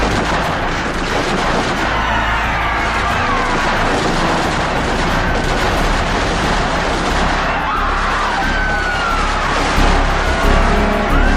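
Dramatized gunfire from soldiers in a staged colonial-era scene, a dense, loud and continuous wash of shots and rumbling effects that runs unbroken for over ten seconds without talking.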